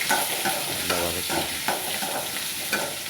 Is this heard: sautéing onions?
yes